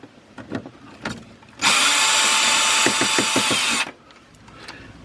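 Power drill backing Phillips head screws out of a car's fender to loosen the inner fender cover, a loud close whir running about two seconds with ratcheting clicks, between quieter handling noises.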